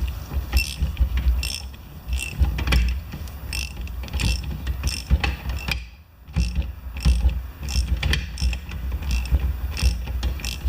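A ratchet fitted with a 16mm socket tightens a part on a pressure washer wand, giving steady repeated clicking strokes close by with a brief pause midway.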